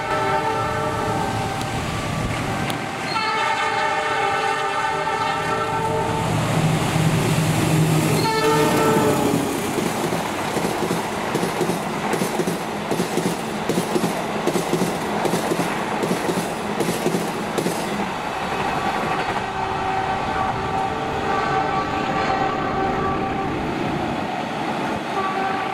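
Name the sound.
Direct Train Semarang-Jakarta passing at high speed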